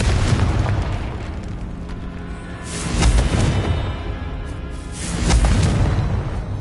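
A Confringo fire spell explodes in the video game Hogwarts Legacy, giving two loud, booming blasts a few seconds apart over a steady rumbling game background.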